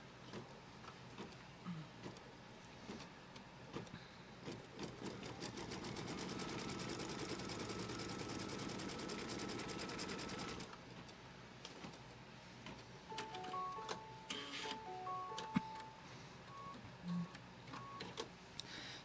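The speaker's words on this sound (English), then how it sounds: "Let's put the foot down and stitch out the first placement line for the fabric" A home embroidery machine stitches out the first fabric placement line for a Kimberbell Pumpkins & Potions quilt block, its steady rapid needle chatter running close and even for about ten seconds, then easing into lighter intermittent whirring and clicks.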